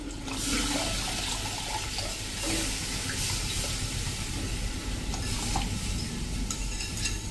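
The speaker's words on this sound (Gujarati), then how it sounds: "આ રીતે જેમાં પેસ્ટ બનાવી હતી ને એમાંથી જ હું પાણી નાખી દઉં છું." Water is poured into a pan of drumstick curry on a gas stove, a steady close splashing and gurgling pour that fills most of the moment.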